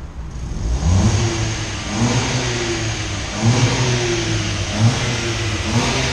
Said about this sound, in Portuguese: Ronco silencioso original.